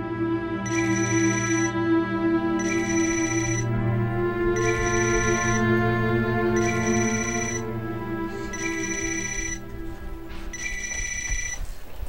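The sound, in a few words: cellphone ringing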